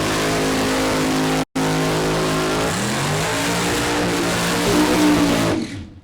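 Two alcohol-fueled Hemi funny car engines at a drag strip, Mo-Kan Dragway, roar loudly and continuously. The rough, throbbing idle cuts out briefly, then swells in a revving surge before trailing off at the end.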